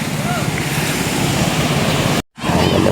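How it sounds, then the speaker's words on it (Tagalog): Storm-driven ocean waves roar steadily and loudly close by, mixed with wind buffeting the microphone, broken by a brief moment of silence near the end. "Hindi siya gano'ng kalaking alon ulit natin"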